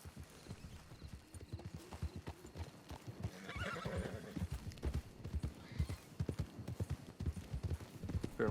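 Horses clip-clop steadily with rhythmic hoofbeats close by, and a neigh rises in the middle, in a Western roleplay scene set near a campfire.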